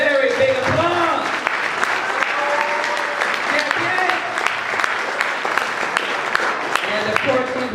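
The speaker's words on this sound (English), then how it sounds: "Give Councilmember Carolyn Evans Shabazz a very big applause." A crowd at a basketball hall of fame honoring ceremony applauds loudly and steadily throughout, dense clapping filling the whole stretch, with a voice or two breaking through near the start.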